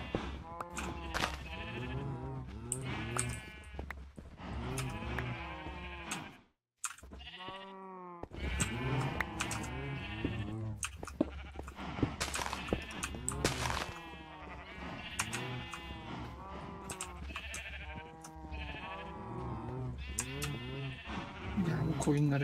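Sheep in the Minecraft video game bleat repeatedly throughout, layered with game sounds and a steady low hum, with a brief drop to silence partway through.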